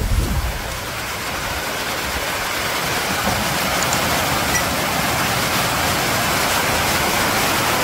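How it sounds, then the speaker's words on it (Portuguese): Heavy rain pours down in a steady broadband hiss that fills the whole stretch at an even, loud level, with no voices and no clear breaks. "Vou esperar essa chuva passar e depois eu continuo esse vídeo aqui."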